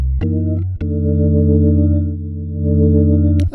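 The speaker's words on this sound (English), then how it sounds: "But I do like to add some vibrato chorus." A Crumar Sorrento organ's lower manual plays a sustained chord with vibrato chorus set to C3, its warm, steady tone holding loud and close, with a brief chord change near the start and a click at the end.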